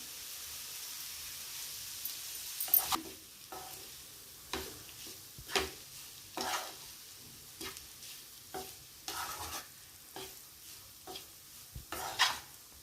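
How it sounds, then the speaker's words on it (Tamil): Paneer fried rice sizzles in a hot pan while a spoon stirs it, giving repeated scraping strokes over a soft, steady frying hiss with no talk. "இப்போ நல்லா மிக்ஸ் பண்ணிக்கலாம். அப்படியே கொஞ்ச நேரம் வதங்கட்டும்."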